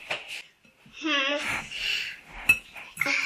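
A fork clinks against a bowl in a home kitchen while pizza is being made, with a few sharp metallic taps among a child's chatter and a parent's voice.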